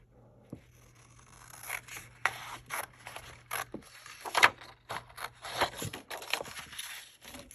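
Scissors snip straight through scrap paper while cutting a bookmark, a series of close, crisp cutting strokes and rustles in an irregular rhythm, fairly quiet with no talk.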